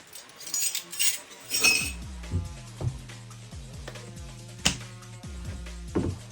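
A utensil stirring an added ingredient into mead must in a glass or metal vessel, giving repeated clinks and scraping taps in an uneven rhythm, fairly close and moderately quiet.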